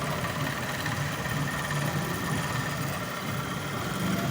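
A small stocked motor inside a little homemade machine for breaker work runs with a steady, low hum and faint rattle, continuous and even throughout, with no voices.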